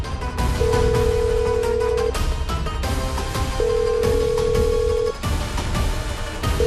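A steady electronic ring tone repeats in long bursts with short gaps, sounding over a loud, busy background of music and noise, with nobody picking up.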